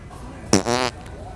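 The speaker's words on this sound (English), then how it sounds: "A little fart? Just a little one," A prank fart noise device lets out a short, loud, buzzy blast lasting under half a second, with a sharp onset and a quick fade, over a quiet store background.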